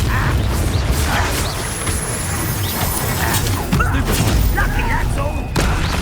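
Confringo blasting spell going off during a fight in Hogwarts Legacy, a series of booming thuds and crashes within a dense, continuous battle mix, with voices shouting over it.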